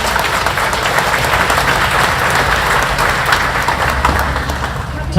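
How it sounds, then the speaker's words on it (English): A large crowd at the Hmong Wausau Summer Festival applauds loudly and continuously, a thick unbroken wash of clapping that holds steady throughout. "one more round of applause, please"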